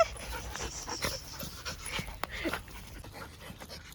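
A dog pants quickly and steadily nearby, soft rhythmic breaths over a faint background.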